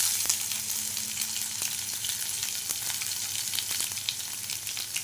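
Mustard seeds, cumin, a dried red chili and garlic cloves fry in hot oil, giving a steady, close crackling sizzle with scattered tiny pops throughout, alone with no talk.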